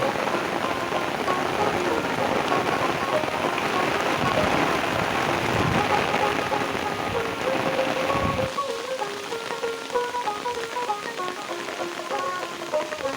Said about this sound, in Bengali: প্রচন্ড বৃষ্টি শুরু হয়েছে প্রচন্ড ব্যাপক বৃষ্টি শুরু হয়েছে